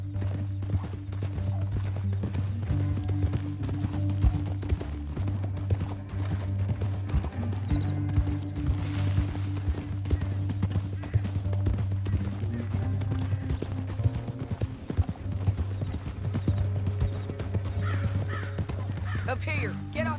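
Horse hooves clop in a steady, continuous rhythm in Red Dead Redemption 2, with crows cawing faintly in the background.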